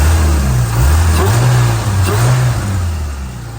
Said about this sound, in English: Now we give it a quick cheeky little rev.